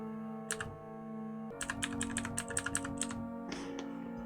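Keys on a computer keyboard are pressed in short bursts, first a pair of taps, then a quick run of about a dozen clicks, then another brief cluster, close and crisp over a steady background hum.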